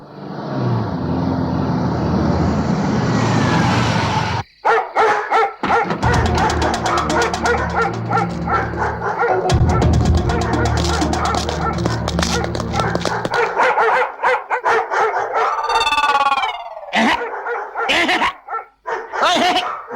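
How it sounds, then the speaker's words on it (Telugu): Several dogs bark loudly and repeatedly near the listener, with yips and whimpers mixed in. A car is also heard in the comedic scene. "పాడు కుక్కలారా ఈ అరుపులతో నా చెవులు చిల్లులు పడిపోతున్నాయి కదే."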